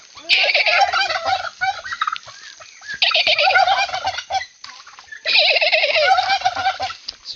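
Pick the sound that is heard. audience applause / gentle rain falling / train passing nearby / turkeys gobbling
turkeys gobbling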